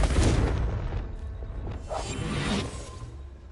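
A Confringo blasting spell in Hogwarts Legacy goes off as a deep, rumbling explosion with a whooshing rush, loud at first, then a second swell of blast and debris before it fades.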